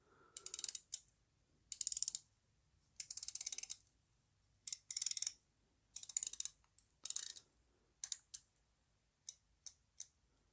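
The rotating bezel of a Largaz Emperor Tuna watch gives close, crisp ratcheting clicks in quick bursts, with short gaps between turns and a few single clicks near the end.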